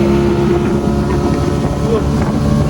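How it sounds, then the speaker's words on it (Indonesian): A speedboat racing across open water in Asmat, Papua, with a loud, steady outboard engine roar, wind buffeting the microphone and rushing spray, close and continuous. "Speedboatnya melaju dengan kencang."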